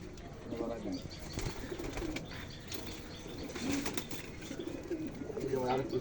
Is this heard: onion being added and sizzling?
no